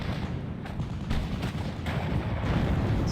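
Booming 8cm cannon artillery fire in an online war video game, a dense run of heavy volleys rolling one into the next over a constant low rumble.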